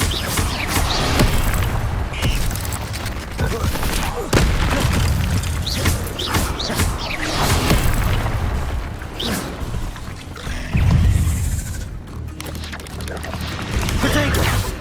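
Fire spell cast in the Hogwarts Legacy video game on PS5, a loud burst of booming, rushing flame with repeated impacts amid dense battle noise and game voices.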